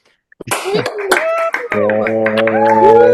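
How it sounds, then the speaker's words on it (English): Online masterclass participants unmute together to cheer and clap, a brief burst of overlapping voices and whoops with scattered hand claps from many remote microphones, loud and close. "So unmute yourself really quick, and we're gonna cheer."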